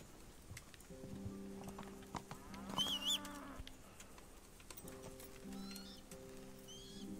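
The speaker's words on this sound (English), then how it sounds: "I'm gonna call for the horse." Horse in the medieval video game Kingdom Come: Deliverance, heard as light hoof clip-clops with a few snorts and chirping birds over a low ambient game music bed, moderately faint throughout.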